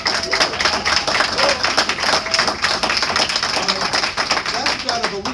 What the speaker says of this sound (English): Can you give me a better clap than that?